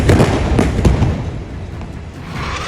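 Deep booming missile blasts and sharp bursts thunder over a dense, rumbling background in Gaza during Israeli strikes, several loud detonations early, then a sustained roar.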